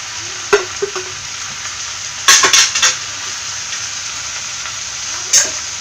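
Egg noodles being stirred in a hot frying pan, with a constant sizzle broken by a few sharp metallic clinks and scrapes of the utensil against the pan.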